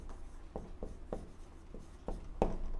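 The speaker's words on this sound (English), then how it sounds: "Under that, I want you to write location, comma, habitat." A pen scratches by hand across a nature journal page, faint close-up strokes in short irregular bursts, about seven quick scribbles over a quiet background.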